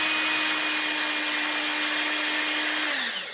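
A power drill running at low speed drives 1/4 inch head screws into an ATV front tire tread, giving a steady motor whine that holds for about three seconds and then winds down as the trigger is released.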